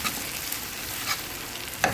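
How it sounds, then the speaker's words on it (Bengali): Noodles mixed with packet spices are stirred in a pan, giving a soft, steady sizzle with a few scraping strokes of the utensil close by. "এখন ভালো করে মিক্সচার করে নিব"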